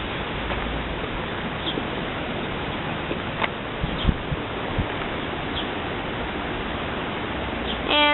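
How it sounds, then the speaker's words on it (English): Wind blowing through trees after Hurricane Irene, a steady broad rushing hiss with leaves rustling throughout, a few faint clicks and knocks, and a gust swelling at the end. "So, it's windy."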